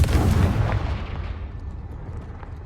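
The Confringo blasting spell in the video game Hogwarts Legacy goes off as a heavy, booming explosion, loud at first and then rumbling as it fades away.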